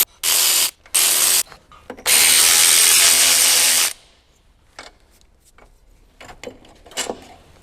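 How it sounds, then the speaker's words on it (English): Electric impact gun loosening suspension bolts on a Ford Fiesta ST180 during a parts upgrade: two short loud bursts, then a longer sustained rattling whir lasting about two seconds, followed by faint clinks and handling noises in a quiet garage. "I'll loosen them all off first, and I'll probably go and get the electric gun"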